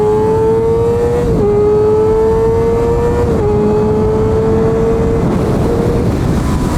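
A Kawasaki ZX6R motorcycle on a race track screams loud and close at high revs, its steady whine climbing and briefly dipping at two shifts before surging again toward redline.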